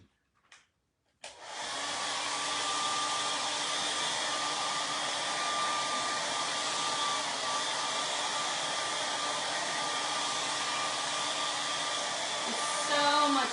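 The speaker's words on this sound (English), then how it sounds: "Let me run this dryer over it just real quick." A handheld hair dryer is switched on and runs over a decoupaged honeycomb pillow, after a couple of brief clicks. It gives a loud, steady, close whirring blow that lasts over ten seconds with no talk.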